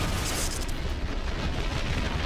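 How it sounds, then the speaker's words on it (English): A fuel-air mixture exploding inside an aircraft fuel tank, heard as a loud, sustained rumbling roar with broad crackling noise that stays dense and steady throughout. "The explosion blows out one of the inner panels."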